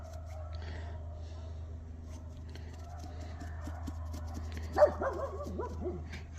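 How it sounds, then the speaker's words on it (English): Dogs barking across a neighborhood, faint and distant, with a cluster of yaps and barks late in the stretch over a low steady hum. "you can hear all the dogs barking throughout the neighborhood"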